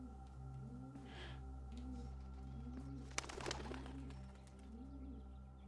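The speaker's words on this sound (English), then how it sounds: "Rock doves." Rock doves in the Blue Prince video game give soft, repeating coos in a slow rhythmic pattern over a low steady hum, with a brief sharp click and rustle near the middle.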